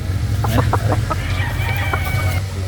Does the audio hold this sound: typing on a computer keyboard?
no